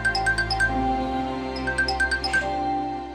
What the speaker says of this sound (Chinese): 潘婶，我接你电话